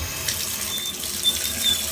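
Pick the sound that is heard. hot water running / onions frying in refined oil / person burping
hot water running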